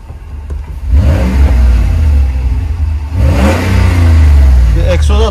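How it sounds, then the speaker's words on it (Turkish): A Mercedes W124 E60 AMG engine revs loudly up close in two long surges, dropping back to idle between them, with brief speech over the roar. "Bir motor sesini dinleyelim"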